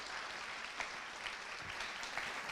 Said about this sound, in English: If everyone can please give her a round of applause.